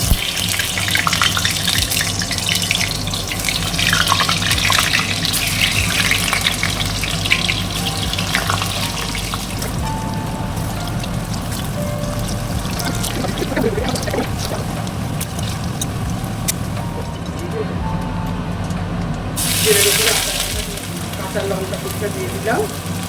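Stuffed potatoes sizzling in hot oil in a kitchen, a continuous loud crackling hiss that runs throughout with a brief burst of stronger spattering near the end.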